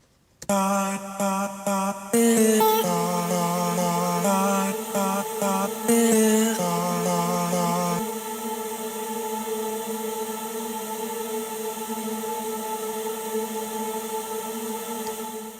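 Short vocal-like notes and stabs give way midway to a sustained, shimmering tone from a reverb freeze that holds steady and smooth like a synth pad, fading gently.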